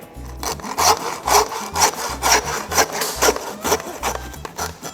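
A saw cuts through beef ribs near the loin in a steady, loud back-and-forth rhythm of about ten rasping strokes, close up and without speech.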